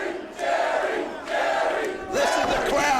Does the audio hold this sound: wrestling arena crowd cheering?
yes